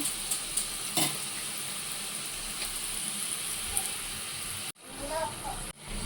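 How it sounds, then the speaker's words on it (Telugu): Jaggery-filled kajjikayalu pastries deep-frying in oil give a continuous dense sizzle with occasional soft bubbling pops; a short pause near the end interrupts it briefly. "ఇప్పుడు వేసుకున్నాము వీటిని మంచిగా కాలాలండి బ్రౌన్ కలర్ వచ్చేంత వరకు"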